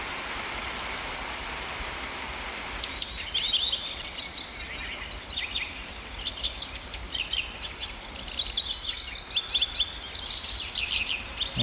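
Birds chirp and twitter in short, scattered bursts against a steady low engine-like drone, starting a few seconds in and continuing throughout.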